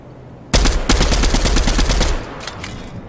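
Rapid bursts of video game gunfire in Fortnite Battle Royale duos, loud and close, with a dense automatic volley that runs about a second and a half and then trails into fainter scattered shots.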